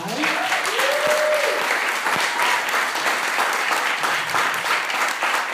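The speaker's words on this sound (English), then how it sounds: "let's give Chris a big round of applause" An audience applauds Chris Avellone, a video game designer, after his talk: steady, dense clapping from a crowd fills the room throughout, with brief voice traces near the start.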